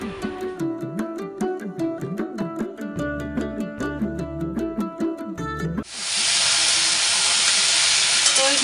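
Vegetables dropped into a hot pan with onion and green chili tempering: steady rhythmic chopping first, then a sudden loud, continuous sizzle that fills the rest of the clip.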